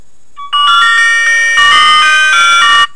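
A Classic Top 2 senior mobile phone plays a loud melodic electronic ringtone, a bright repeating sequence of tones that runs for over two seconds, with no talking.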